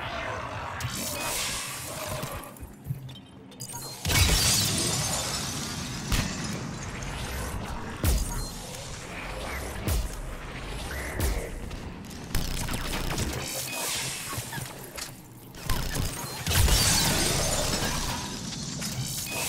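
Cryo explosions and snap-freeze shatters from an N7 Paladin Sentinel in Mass Effect 3 multiplayer, heard as repeated loud icy bursts and crackling breaks over constant battle noise and weapon fire.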